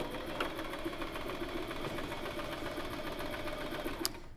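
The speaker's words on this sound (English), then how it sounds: "Let's sew that right up." A sewing machine stitches a dress seam in black thread with a 1/2 inch seam allowance, running as a steady close mechanical whir with fast rapid ticking and a small click near the end.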